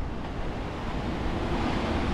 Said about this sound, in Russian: Идет волна. Ух. Видите, как сильно?